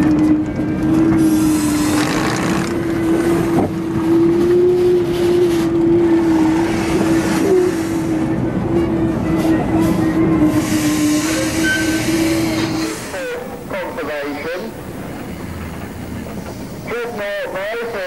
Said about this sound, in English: This engine is one of the biggest Showman's engines that has survived. It's a McLaren made in Leeds called Goliath.